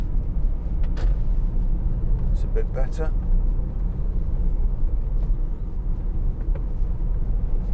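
A 2018 Ford Transit Custom 2.0 TDCi 290 L1H1 van on the move, with a steady low engine and road rumble throughout and someone speaking briefly over it.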